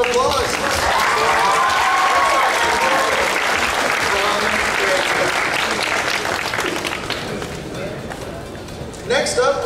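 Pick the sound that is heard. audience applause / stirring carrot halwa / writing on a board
audience applause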